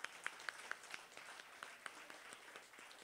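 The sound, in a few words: audience applause at a band show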